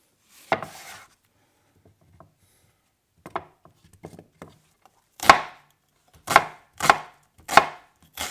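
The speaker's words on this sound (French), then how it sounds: "Ensuite on va couper un oignon." An onion chopped on a board for butter chicken: one early knife strike, scattered light taps, then four firm, evenly spaced chops close by, with no voices.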